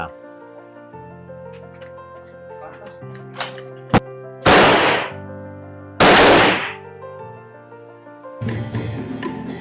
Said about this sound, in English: Let's use our gun.